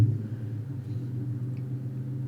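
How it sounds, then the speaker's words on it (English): A big, loud car rumbles outside, a low steady engine drone heard through walls from a distance, continuous and moderately strong for the short stretch with no speech over it. "Big loud car outside."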